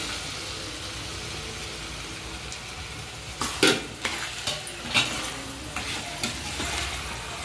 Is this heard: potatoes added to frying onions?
yes